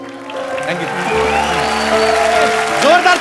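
A studio audience on The Kapil Sharma Show claps steadily for a few seconds, with sustained tonal music or voice lines running over the applause.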